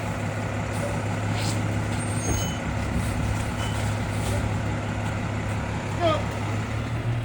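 A Star Waste garbage truck packing Christmas trees runs with a steady engine drone and hydraulic whine, with faint beeps and squeaks from the compactor throughout.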